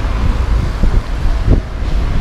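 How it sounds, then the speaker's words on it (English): Strong wind buffets an outdoor microphone, producing a continuous loud low rumble with gusty swells and no speech. "Man, it's really windy, man."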